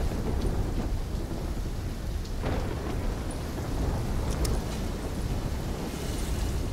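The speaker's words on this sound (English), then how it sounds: "trying to grab everything they can before the worst of the storm hits." Steady rain and rolling thunder from a storm in Call of Duty: Black Ops 3, a dense continuous wash of downpour with low rumbles, one stronger crack partway through, no voices.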